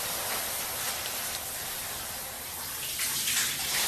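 Hot shower water runs steadily and loudly with a dense, unbroken hiss, close by and with no voices over it.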